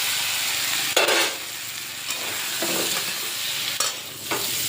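Fried potato and jackfruit land in a pan of sizzling spice paste for a vegetarian jackfruit curry, with a steady close hiss, sharp bursts of sizzle as pieces drop in, and stirring scrapes.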